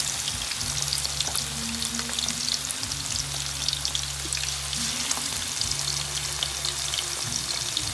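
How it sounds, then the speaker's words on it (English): Chicken wings and drumsticks frying in oil, a dense continuous sizzle and crackle with a steady low hum beneath, close and loud throughout with no talking. "But you're going to try and fry these for about maybe 20 minutes."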